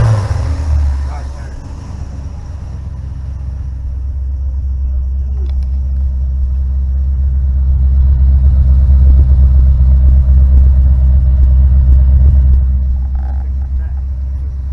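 A 1969 Pontiac Firebird engine idles with a deep, steady low rumble close by after a carburetor adjustment, swelling slightly in the middle, with voices talking over it.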